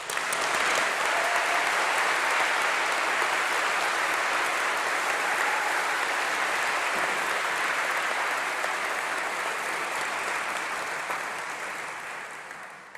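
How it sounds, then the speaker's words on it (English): Sustained applause fills a university graduation ceremony as the audience claps for staff, a dense, loud roar of many hands that holds steady for most of its length and eases slightly toward the end. "would you join me now in giving them a round of applause too?"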